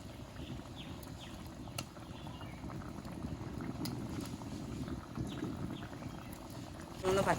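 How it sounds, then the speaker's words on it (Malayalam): Fish curry of sardines bubbles at a steady boil in a pot, a dense, continuous simmering rumble close by with faint clinks, alone for most of the clip. "അപ്പം നല്ല തിളച്ചിട്ടുണ്ട്."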